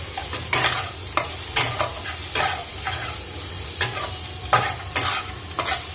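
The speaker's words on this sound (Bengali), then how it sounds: "এখন আমি মশলাটা দিয়ে দিব।" Turmeric, cumin, chili powder, salt and Maggi masala hit a hot frying pan, producing a loud sizzle with sharp spatula scrapes and stirring clatters repeating through the clip.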